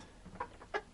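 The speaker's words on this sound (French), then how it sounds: "c'est vraiment une gentille poule" A hen clucks in a few short, close bursts, soft little calls spaced unevenly over a quiet background.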